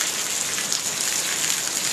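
Steady rain pours down outdoors, a dense, loud, even hiss of drops hitting surfaces close by, with no voices.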